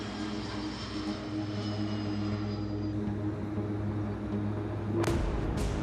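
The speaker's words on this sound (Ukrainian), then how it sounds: "Літак із Ніци заходить на посадку." An airplane arriving from Nice makes its landing approach at Kyiv airport: a steady, fairly close engine drone that holds throughout, with a brief louder whoosh near the end.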